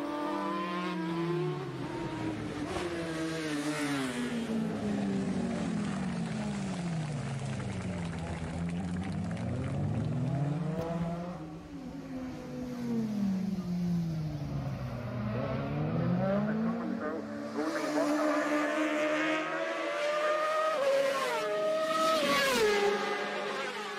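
Racing motorcycles, including a BMW S1000 and Honda CBR Fireblades, scream along the closed public roads of the Isle of Man TT, engines rising and falling through repeated gear changes as several bikes pass in turn, loud and continuous.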